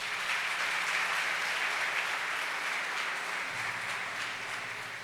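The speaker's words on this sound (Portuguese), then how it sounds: "Você pode aplaudir a Jesus por isso?" A church congregation applauds during a sermon, a dense, steady wash of clapping that holds evenly for several seconds with no talk over it.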